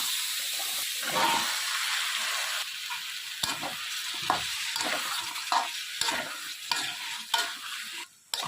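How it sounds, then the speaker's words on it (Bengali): Ground spice paste frying with yardlong beans and potato in a pan, a close continuous sizzle and hiss broken by repeated scraping strokes of a spatula stirring, no talking. "মশলাটি ভাজা ভাজা হয়ে আসছে।"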